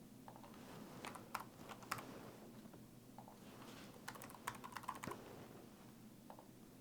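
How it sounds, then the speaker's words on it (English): Keys clack on a computer keyboard as an address is typed, coming in quick uneven clusters of close, light taps over a quiet room with no speech. "So I'm gonna type in the address here."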